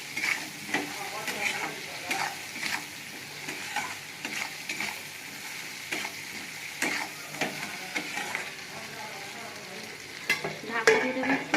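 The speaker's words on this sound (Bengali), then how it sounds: "আলু দিয়ে মশলার সঙ্গে কষে নেব।" Fried potatoes tossed with spices in a hot pan for a Bengali fish curry, a busy sizzle under repeated scraping stirs, close and steady, with no speech.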